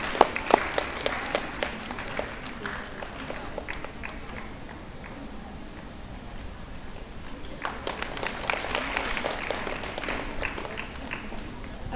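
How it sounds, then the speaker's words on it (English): An audience at a government capacity-building program gives a round of applause, scattered clapping that rises and thins out, fairly faint and somewhat distant in a large room. "Please give a round of applause."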